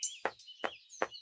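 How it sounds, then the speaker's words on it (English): Three distinct knocks on an old gnome's door, evenly spaced about a third of a second apart, crisp and close, with faint birdsong in the background. "there was a knock on the old gnome's door"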